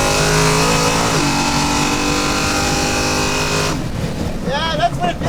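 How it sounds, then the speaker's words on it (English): A loud, close high-compression, race-fuel engine in a 9-second Chevelle race car roars at high revs with a steady buzzing drone, then shifts and rises sharply as the revving changes near the end. "This is the high compression race fuel engine."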